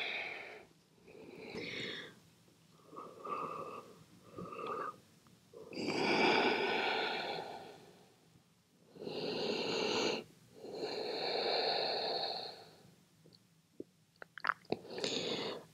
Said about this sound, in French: Tu laisses ton cœur se calmer, tu profites pour encore trois belles respirations ici.